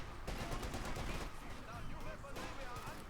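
Rifle fire from a scoped Gewehr 43 sniper in Company of Heroes 2, heard among dense overlapping gunshots and bursts of battlefield fire, with a steady loud rattle throughout.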